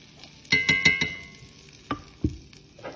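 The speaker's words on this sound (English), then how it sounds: "So you're making a roux" Self-rising flour is stirred into a pan for a roux for baked macaroni and cheese: four quick scraping strokes in a row, then a few separate scrapes, fairly quiet and close.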